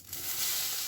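Mustard seeds and urad dal frying in sesame oil give off a steady, faint sizzle with light crackling, heard alone in a brief burst.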